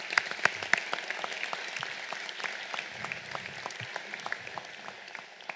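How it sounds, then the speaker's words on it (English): Applause from the audience at a 2024 FOS luncheon: a steady, moderately faint patter of many hands with a few sharper, louder claps standing out, and no talk over it. "Let's give them all a big round of applause."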